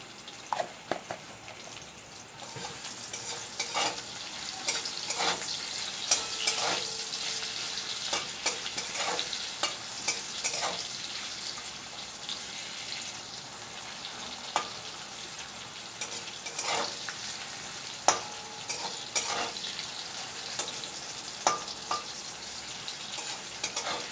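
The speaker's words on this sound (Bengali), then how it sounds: "গাজরটা যাতে তাড়াতাড়ি ভাজা হয়ে যায়, আমি এর মধ্যে একটু অল্প করে নুন দিয়ে দিচ্ছি" Carrots fry in a pan with a light salting, a low continuous sizzle broken by repeated scraping and stirring strokes, fairly quiet and without talk.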